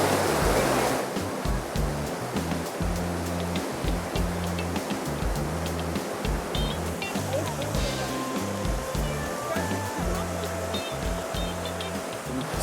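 Rimbi River water rushes steadily beside a riverbank near Pelling in West Sikkim, a broad continuous roar with a strong low rumble, while faint higher tones and some voices drift in partway through.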